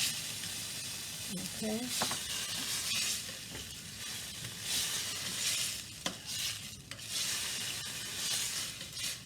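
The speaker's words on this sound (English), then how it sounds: "Now I'm going to put in a tablespoon of tomato paste at the bottom of that. Get that sizzling down there." Tomato paste sizzles at the bottom of a pot during home cooking of a rib sauce, a steady soft hiss with occasional stirring scrapes and a brief spoken word.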